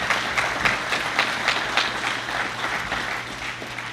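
An audience at a university State of the University address breaks into sustained applause, steady dense clapping filling the hall at full volume with no talk over it.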